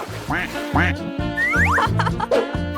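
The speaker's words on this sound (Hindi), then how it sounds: "और तुम्हारे पास छोटे छोटे बत्तख भी होंगे" Cartoonish duck quacks for toy ducks at a dollhouse pond, a lively run of close, loud nasal quacks with springy pitch slides and no talking.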